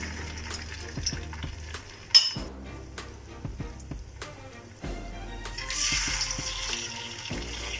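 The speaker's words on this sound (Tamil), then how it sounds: "நான் இன்றைக்கி ஷாலோ ஃப்ரை தான் பண்ண போகிறேன்." Batter-coated potatoes shallow frying in a pan give a steady sizzle, punctuated by clinks and scraping of a utensil, with the hiss swelling louder toward the end.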